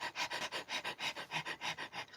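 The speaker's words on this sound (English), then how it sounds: "Like right there, a dog panting." A dog pants rapidly and steadily at close range, with about ten quick, even breaths in regular rhythm and no other sounds.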